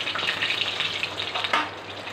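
Pomfret fish frying in oil crackles and sizzles at close range in a short, steady burst with a few brief spikes, and nobody speaks.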